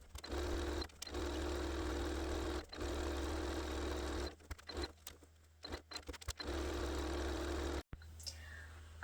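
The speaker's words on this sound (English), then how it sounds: "I'm now going to take it over the sewing machine, and I'm going to zigzag" A sewing machine zigzag-stitching around a holly appliqué runs in steady bursts with brief pauses, close and fairly loud, ending in short stop-start stitches and small clicks.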